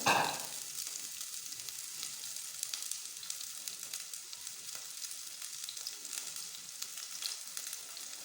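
Grated ginger and chopped onion frying in a pan, giving a steady, crackling sizzle that stays close and fairly even, with a brighter burst right at the start as the ingredients hit the hot oil.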